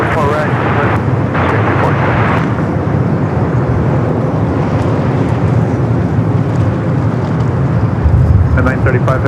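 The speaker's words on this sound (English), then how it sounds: "Due to a heavy Dreamliner touching down, runway right start to land." A heavy Boeing Dreamliner airliner touching down on a runway at LAX gives a loud, steady broadband roar that holds throughout, with a voice briefly speaking over it.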